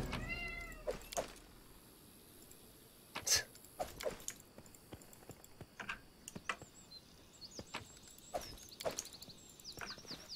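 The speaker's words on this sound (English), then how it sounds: "Again, you can probably hear my cat in the background," A cat meows several times in the background, soft and fairly distant, with scattered clicks of keyboard typing and light tapping between the calls.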